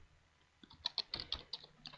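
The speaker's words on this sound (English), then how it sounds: "when you've got a keyboard, you can just do this" Faint, quick keystrokes tap on a computer keyboard used with a Minecraft console setup, a light irregular burst of clicks heard alone with no talking.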